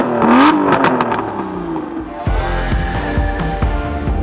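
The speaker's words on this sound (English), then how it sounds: "6-litre V12, it makes a terrific noise." An Aston Martin's 6-litre V12 engine revs loudly up close, with a rising, rasping surge that falls away into a deep, rumbling idle layered with light mechanical clatter.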